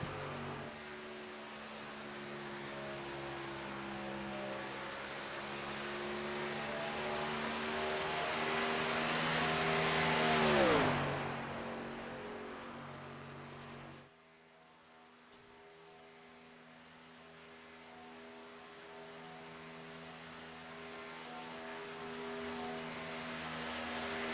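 A race car laps a superspeedway, its engine drone climbing in pitch and volume to a loud close pass, dropping away sharply, then building steadily again, with no talk.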